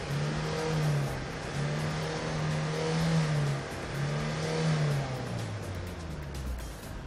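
A smoking, poorly running car engine revs on a roadside in repeated pulses, rising and falling about four times, loud and close with traffic noise around it.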